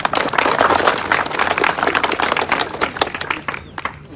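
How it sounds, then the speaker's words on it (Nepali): Applause for a speaker at a cricket event: a dense, fairly loud crowd clapping that holds steady for about four seconds, then thins out and fades near the end. "उहाँको नाममा जोरदार ताली गर्नु"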